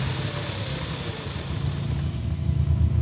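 A motorcycle engine fitted with a cheap aftermarket CDI idling and running at low RPM, a close, steady rumbling drone with a slightly uneven, stuttering pulse.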